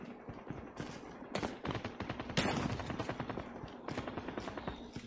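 Rapid bursts of gunfire in Call of Duty Mobile rattle off in quick succession, with sharp individual shots and a louder crack midway, fairly close and continuous.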